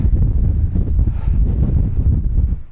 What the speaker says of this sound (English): the wind up here is quite phenomenal once you get to the top and you're exposed